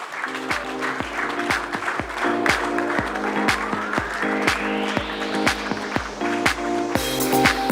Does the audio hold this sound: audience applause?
yes